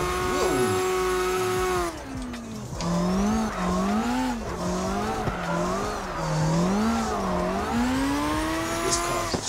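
A Nissan S13 in the CarX drifting game revs hard, its engine note rising and falling in repeated waves as it shifts and holds gears, with tire squeal mixed in, loud and continuous throughout.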